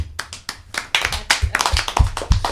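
A small group claps for newly elected board members at a council meeting, quick uneven handclaps close by, lasting a couple of seconds.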